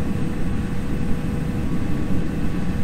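Cessna 310 twin engines in a flight simulator game, a steady low droning hum with a slight pulsing texture as the throttle comes back, alone and fairly loud.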